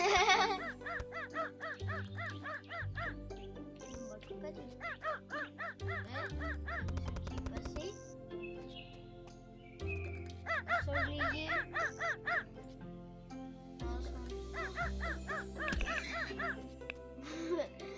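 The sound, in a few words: dog barking in video game Ranch Simulator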